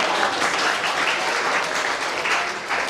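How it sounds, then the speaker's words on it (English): An audience at an inter-collegiate English proficiency contest breaks into applause, a dense, continuous wash of many hands clapping for the full stretch with no speech over it. "we should have big round of applause for them."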